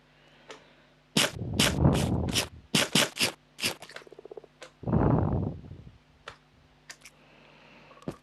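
Frogs in Minecraft make a run of short, clicky croaks and scraping chirps in clustered bursts, near and fairly loud, with a longer raspy croak in the middle and scattered faint ticks after.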